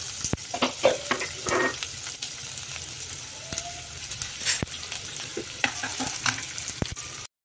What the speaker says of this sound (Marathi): कांदा व्यवस्थित तळत आलेला आहे।